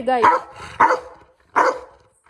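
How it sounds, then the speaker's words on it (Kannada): A dog barks three times in short, loud bursts at close range while being groomed and given a bath indoors, with a brief pause between each yelp-like bark. "ನಾನು ಮುಟ್ಟಿದ್ರೆ ಭೋ ಅಂತ ಬೊಗಳ್ತಾ ಇದ್ದಾನೆ"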